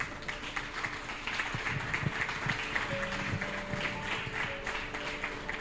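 A church congregation claps in a lively, uneven burst of applause, individual claps audible within the crowd sound, with some sustained tones from instruments or voices underneath.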